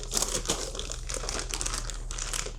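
Plastic packaging wrapped around a knapsack bundled with an ASUS ROG Strix G gaming laptop crinkles and rustles continuously up close while being pulled open, with no talking.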